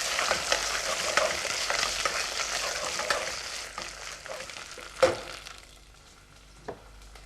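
Ginger garlic paste fries with onions in a pan, a close sizzle with stirring scrapes that fades through the second half, punctuated by a couple of clattering knocks.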